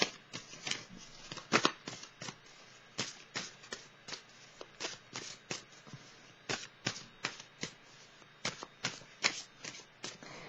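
Tarot cards are shuffled and drawn over about ten seconds. A steady run of crisp, close card riffles and flicks comes in irregular bursts, with no voice over them.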